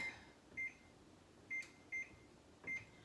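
A kitchen timer gives five short, faint electronic beeps at uneven intervals while being set, over a quiet room hum.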